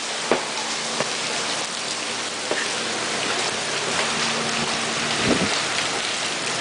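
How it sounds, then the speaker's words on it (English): A quick-hitting storm in Arkansas, steady loud rain pouring onto surfaces with gusty wind and occasional sharp drips and knocks, continuous and close throughout. "it's still pretty windy from the trees and the flags, but it's like another quick-hitting storm in Arkansas"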